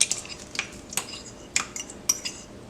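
A whisk scraping and clinking against a pot as cornmeal is beaten into simmering milk: several sharp metallic taps at an irregular rhythm, close and fairly quiet, with no talking.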